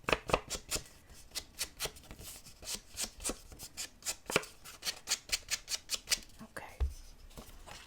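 Scissors snip through patterned paper sheets for an autumn mini album, close and crisp in a quick, fairly even run of many short cuts with tiny pauses between.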